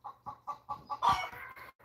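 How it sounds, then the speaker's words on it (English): Chickens on a farm, with a rooster among them, give a run of short repeated clucks followed by a louder, longer call, close and clear with no talking. "With the crowing. Rooster crows."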